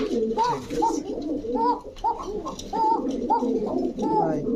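Pigeons cooing close by in a repeated rhythmic pattern, soft throaty calls recurring every half second or so, with faint background noise.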